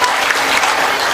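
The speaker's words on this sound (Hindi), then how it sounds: "तालियों से इस्तकबाल कीजिए दोस्तों" A mushaira crowd in Jhansi breaks into loud, dense applause, a thick wash of many clapping hands close and sustained for the whole moment, with no talk over it.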